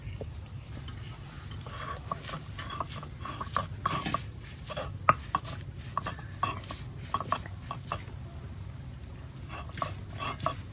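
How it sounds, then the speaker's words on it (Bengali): Shrimp and dried chillies ground on a stone slab for a rural Bengali shrimp bhorta, with steady scraping and rubbing strokes and scattered clicks over a low continuous background hum. "চাইলে এভাবে আপনারা পাটায় ফেসে চিংড়ি মাছের ভর্তা করতে পারেন।"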